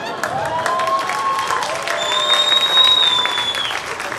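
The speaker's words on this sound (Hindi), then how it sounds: "सबको अपनी माँ की कसम तालियां बजाओ" A comedy-show audience at the Arts Council in Karachi applauds, a steady broadband patter of many hands clapping at moderate loudness, with faint tonal sounds and a little talk drifting over it.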